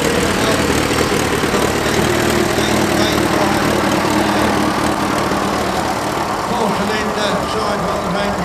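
A vintage horticultural tractor with a four-cylinder sidewall engine runs at a tractor show, a steady, loud mechanical drone that holds without a break while people talk nearby.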